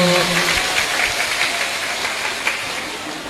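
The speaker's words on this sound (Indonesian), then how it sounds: "Tepuk tangan dulu." Clapping from an audience at an Islamic religious lecture, a brief burst of hand claps that fades as it goes, with a voice faintly present at the start.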